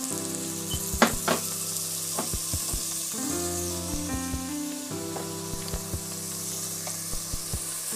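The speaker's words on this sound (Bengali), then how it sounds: "পেঁয়াজের সাথে আমি ভেজিটেবলগুলো দিয়ে দিচ্ছি একসাথে" Chopped carrot, potato and cauliflower frying with onions and turmeric in a pan for vegetable khichuri: a constant close sizzle with repeated sharp spoon clacks against the pan as it is stirred, no speech.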